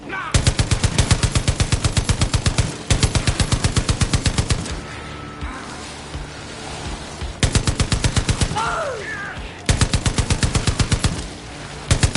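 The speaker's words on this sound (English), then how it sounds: "A fucking high-powered machine gun?" Long, rapid bursts of machine gun fire in the video game Far Cry 5 zombie mode, loud and close, separated by short pauses with faint background noise and voices.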